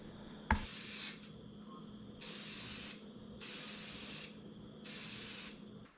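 Spray paint hisses onto a refurbished end table inside a small box paint booth in a garage, in four separate bursts of about a second each after a sharp click, with quiet gaps between them.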